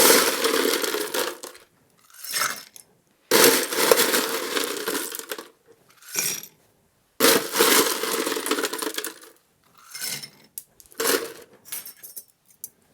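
Ice goes into a glass for an Olivette cocktail: several bursts of loud clinking and rattling cubes, separated by short silences, with smaller clatters toward the end.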